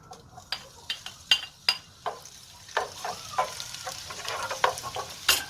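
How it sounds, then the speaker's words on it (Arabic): Onion and crushed garlic fry in oil with a close crackling sizzle, broken by sharp clinks and scrapes of a utensil against the pot at an uneven pace. "ضفنا الزيت، حطيت البصل والثوم المهروس"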